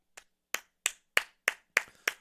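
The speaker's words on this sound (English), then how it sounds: "So a golf clap" Seven slow, evenly spaced golf claps, crisp and isolated against silence, sound like a single pair of hands.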